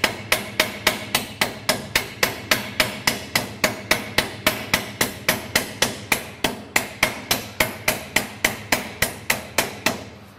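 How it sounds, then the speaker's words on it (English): A ball peen hammer taps on a piece of flat steel in a long, fast, even series of about thirty close, crisp metallic strikes, each with a short ring, with no voices. "The ball peen hammer can be used to make a curve in a piece of flat steel."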